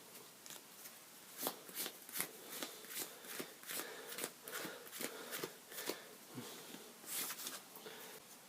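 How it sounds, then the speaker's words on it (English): Playing cards in a Yu-Gi-Oh duel being discarded and drawn, heard as a string of crisp, papery snaps and slides repeating at an uneven pace, close by and fairly quiet, with no talking. "We both discard our entire hands and draw the same number of cards."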